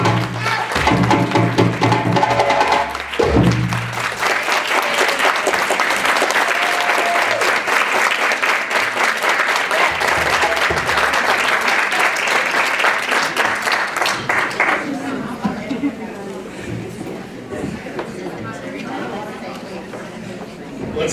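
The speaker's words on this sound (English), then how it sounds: "Let's give him one more big round of applause for that." An audience at a Black History Month celebration event claps loudly and continuously for a long stretch, then the applause gradually thins and fades under some chatter.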